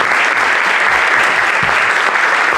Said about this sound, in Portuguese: uma salva de palmas para o staff também.